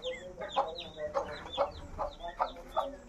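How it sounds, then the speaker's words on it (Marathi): A hen clucks softly and repeatedly with her five young chicks in a village setting, a steady rhythm of low clucks with faint peeps above, fairly quiet and close. "काही 5 पिल्ले आहेत कोंबडीचे"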